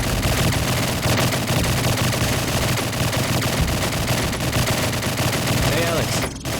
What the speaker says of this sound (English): Sounds like someone's at the shooting range.